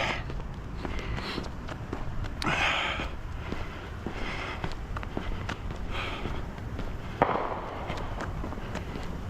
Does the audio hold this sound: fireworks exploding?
yes